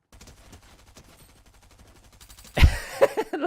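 Fortnite gunfire: after a stretch of quiet clicking and soft rhythmic movement, a sudden loud burst of rapid shots erupts near the end, followed by a few further sharp cracks.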